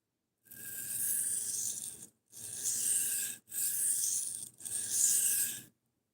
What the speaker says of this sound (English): It takes like 2 passes on this thing to get a burr.